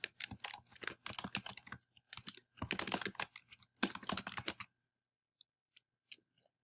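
Close typing on a computer keyboard, quick bursts of rapid key clicks with short pauses, then a few isolated faint taps as it stops.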